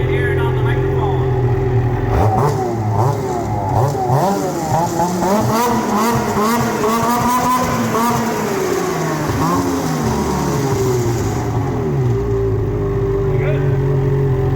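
A 2021 Ski-Doo 850 snowmobile with a GGB performance muffler idles, then revs hard in repeated rising blips close to the microphone, loud and raspy, before easing back to a steady idle.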